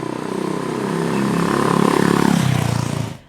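A Honda CB350 RS motorcycle engine heard while riding through corners, a close, throbbing exhaust note that rises steadily in pitch as the bike accelerates, then cuts off sharply at the end.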